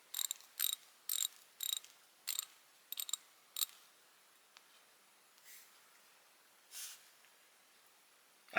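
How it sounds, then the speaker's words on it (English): A fine-tooth ratchet from a flea-market tool haul, clicked in a quick run of sharp, evenly spaced ticks, then a few slower, fainter clicks trailing off in a quiet room. "It sounds like it's a really fine tooth ratchet too."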